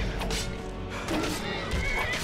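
A horse in the video game Skyrim neighs and whinnies during a melee fight, its loud, strained cries rising over clashing combat noise and hoof clatter in a short burst.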